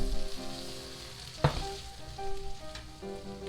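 Sambal frying in a pan makes a steady, close sizzle, with a brief sharp crackle near the middle and soft stirring scrapes beneath.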